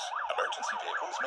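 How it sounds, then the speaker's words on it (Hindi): An ambulance siren wails through city traffic at an intersection, a loud rising and falling electronic tone cycling rapidly and repeating several times, close by. "emergency vehicles make their way between vehicles"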